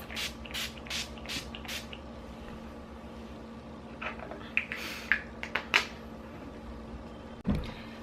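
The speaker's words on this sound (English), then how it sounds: "I'm going to use my Urban Decay All Nighter finishing spray. Just spray my face." Several quick, close hissing bursts of Urban Decay All Nighter setting spray onto a face, followed by quieter clicks and light handling noises.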